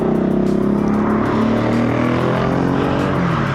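An Energica Experia electric touring motorcycle accelerates hard, its motor whine climbing through layered tones over steady road and wind rush, heard close with the rider's helmet open.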